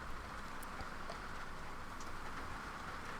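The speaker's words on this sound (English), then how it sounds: "It's raining here." Rain falls outside in a steady, faint hiss of patter with scattered drops, continuous and soft in the background with no talking.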